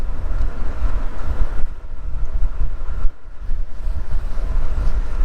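Wind rushing past while riding an AIMA Santa Monica e-bike at speed, a loud, steady low roar with buffeting gusts and a brief dip near the middle.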